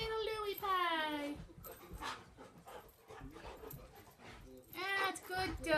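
Dogs at play whimper and whine in high, wavering cries, mixed with yips and scuffling, while a person talks over them.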